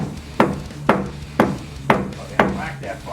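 Five hard wooden whacks land on a plywood aquarium build, each a sharp thud about half a second apart with a short ringing decay, close and loud, with a low steady hum underneath.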